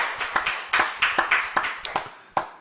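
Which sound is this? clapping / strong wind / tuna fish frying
clapping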